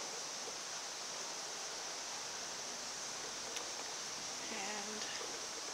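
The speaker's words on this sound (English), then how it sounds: "There's the water on the outside." Water flows outside Mingus Mill in Smoky Mountain National Park, heard from upstairs inside the mill as a faint, steady wash of noise with a few small knocks and tones over it.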